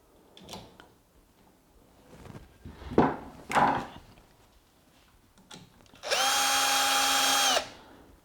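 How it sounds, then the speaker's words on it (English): A power drill drives screws into a Samsung washer dryer under repair. Scattered clunks and handling knocks come first, then a loud, steady motor whine lasts about a second and a half before stopping. "So we'll put our screws back in there."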